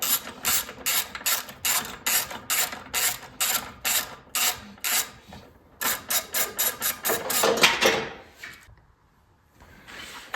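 Ratchet loosening a bolt on a 2019-2024 Subaru 2.5L engine: rapid, close clicking bursts in a steady back-and-forth rhythm, pausing briefly, then a quicker run before falling silent, with no talk.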